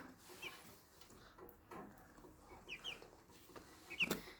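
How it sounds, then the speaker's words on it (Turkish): Young roosters, about 6.5 weeks old, cluck softly in short, scattered bursts, fairly faint, with quiet pauses between calls and a brief sharper squawk near the end. "İkisi de horoz galiba"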